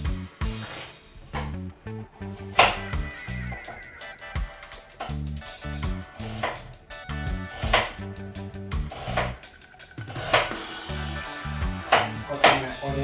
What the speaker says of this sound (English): Cutting my onions